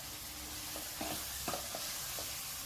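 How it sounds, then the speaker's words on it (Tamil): Tomatoes and turkey berries sauté in hot oil with a steady close sizzle, punctuated by a few soft scraping stirs of a spoon in the pan. "தக்காளி சுண்டைக்காய் ரெண்டுத்தையும் சேர்த்து நல்லா வதக்கிக்கலாம்"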